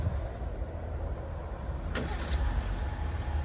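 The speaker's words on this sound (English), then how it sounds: "it should fire up that 3-liter 6-cylinder engine" A 2025 Ram 1500 Limited Longhorn 4x4 with a 3-liter six-cylinder engine fires up by remote start and settles into a steady, deep idle rumble, close by, with a brief click partway through and no voices.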